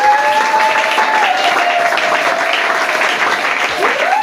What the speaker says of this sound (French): Est-ce qu'on peut acclamer très fort Jésus?